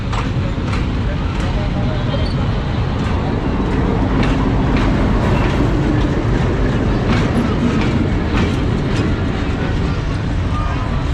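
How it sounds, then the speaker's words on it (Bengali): A 6500-series diesel locomotive, number 6519, hauls a local passenger train out of Rajshahi railway station, giving a loud, steady rumble with rhythmic wheel clatter throughout. "আমাদের ট্রেন এই মুহূর্তে ছেড়ে দিয়েছে রাজশাহী রেল স্টেশন থেকে"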